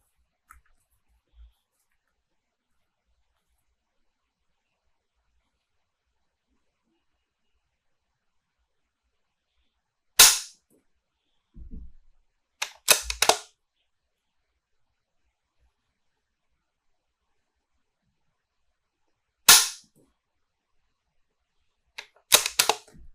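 Two rifle shots on a virtual shooting range, each a sharp isolated crack several seconds apart, with faint bolt-cycling clicks and handling noises around them in an otherwise silent setting.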